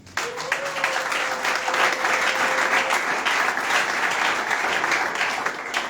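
A church congregation breaks into sustained applause, a dense wash of clapping hands that holds steady throughout, with a faint voice or tone lingering briefly beneath it early on.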